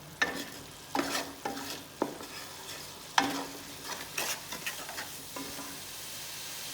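Tempering spices sizzle in hot oil, with a series of sharp crackling bursts and spoon clatters over a soft, continuous frying hiss.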